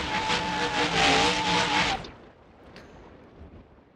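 A big-block dump truck engine in BeamNG.drive roars loud and steady for about two seconds, then cuts off abruptly, leaving a faint low rumble and quiet background.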